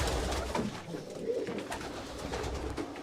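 Pigeons coo softly and repeatedly inside a small breeding loft, a low murmuring chorus under steady background rustle.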